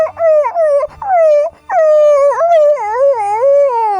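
A person imitates a dog whimpering and howling as if being beaten, with loud, wavering, pitch-bending whines in three long bursts separated by short gaps.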